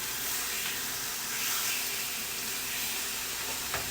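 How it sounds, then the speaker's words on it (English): Pork medallions searing in a hot pan, a steady bright sizzle and hiss holding at moderate level with a small clink near the end. "we are just going to let that do a quick sear for just a moment"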